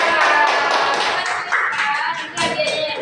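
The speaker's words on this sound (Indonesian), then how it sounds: "Beri tepuk tangan." A classroom group claps together in a dense, steady burst of hand claps that carries loud and close before thinning slightly near the end.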